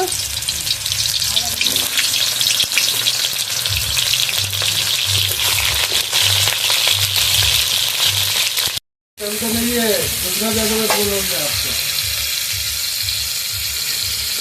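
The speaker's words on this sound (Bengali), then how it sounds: "পটলগুলো ভেজে নেব" Pointed gourds frying in hot oil, a loud continuous crackling sizzle close by, briefly cut off, then resuming with faint voices or tones underneath.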